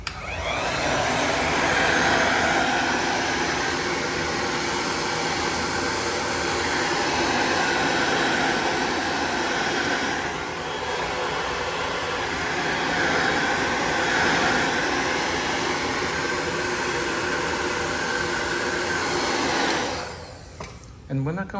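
Heat gun blowing hot air onto wrinkled vinyl wallpaper, a loud continuous whooshing roar that dips briefly midway and cuts off near the end.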